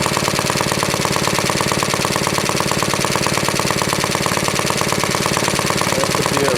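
A 1975 6hp Evinrude outboard motor with a finicky carburetor warms up at idle, a loud, rapid, evenly pulsing putter that runs unbroken from start to finish.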